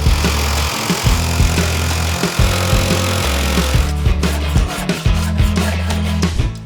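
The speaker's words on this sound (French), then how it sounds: "Pour cela, utilise la scie sauteuse et de préférence une lame avec un dos étroit" A jigsaw with a narrow-backed blade cuts curves in scrap wood, its rapid buzzing blade stroke pulsing in a steady rhythm, loud and close, with brief pauses as the cut continues.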